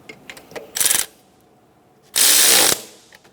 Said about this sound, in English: Snug down the two 12mm nuts. One on the top back and then one on the side.